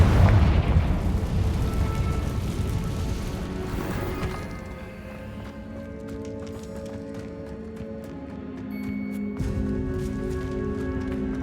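A Confringo fire spell blasts in the Hogwarts Legacy video game, a sharp booming burst at the start that fades into a low rumble and soft, lingering ambient tones.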